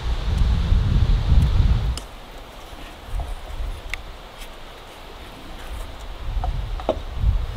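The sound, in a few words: wind blowing outdoors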